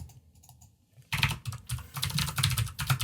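Computer keyboard keys clatter close and clear: near silence for a moment, then a sudden run of rapid, uneven keystrokes that continues steadily with no voices.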